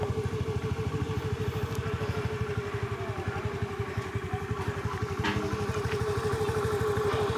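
A vehicle engine, most likely a motorcycle, idles steadily and close by near a temple in a village, with an even, rapid pulsing clatter that holds the whole time.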